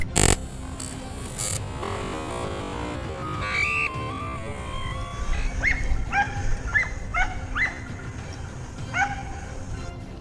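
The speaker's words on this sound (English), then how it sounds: "The hunting dogs fanned out, scouring the thickets to track down the wild boars." Hunting dogs tracking wild boar through thickets at a vineyard's edge give a series of yips and barks, mostly toward the end, at moderate distance over a steady outdoor background.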